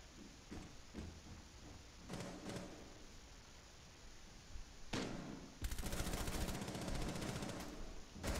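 Distant gunfire in Rainbow Six Siege on the Bartlett U map, with scattered muffled shots early on, then a dense, loud burst of automatic fire through the final seconds.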